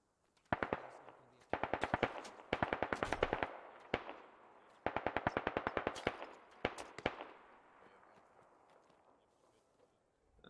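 Machine gun fire in the tactical military shooter Squad rattles out in repeated sharp bursts of rapid shots, loud and close, with short pauses between volleys before trailing off into echo.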